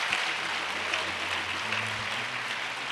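A crowd at a community action assembly applauds the speakers and negotiators, a steady broad wash of clapping held throughout at an even level.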